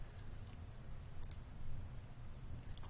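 A pair of faint, crisp mouse clicks in software sounds about a second in, followed by another click near the end, all against a quiet background hum.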